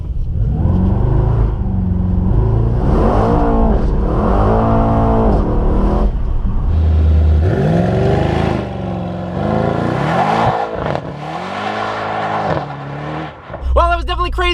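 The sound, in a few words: Mercedes AMG E63S revving in drift mode, attempting a burnout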